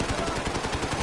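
Gunfire in Call of Duty Modern Warfare, a fast burst of repeated shots in a dense, rattling automatic rhythm lasting about a second.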